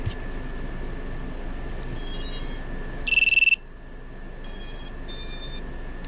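Four electronic beeps from a quadcopter flight controller buzzer in a short irregular pattern, the third sharper and louder, over a faint steady electrical hum.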